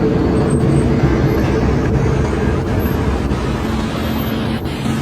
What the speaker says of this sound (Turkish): Gene trafik tıkandı